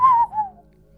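A human voice imitates a strange sound between a whistle and a horse whine, giving a short whistled tone that slides downward, pauses briefly and then dips again before fading.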